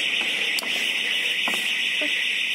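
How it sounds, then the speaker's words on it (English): An alarm rings at a building site at 3am, a steady piercing tone sounding without pause, with faint clicks and knocks beneath it. "Is the alarm going off?"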